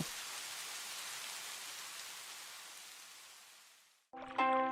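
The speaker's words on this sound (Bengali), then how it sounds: "বন্যার কথা বলতে না বলতে বৃষ্টি শুরু হয়ে গেল।" Steady cartoon rain hisses as a dense, even downpour for about four seconds, fading slightly before cutting off abruptly into a brief tonal musical sting.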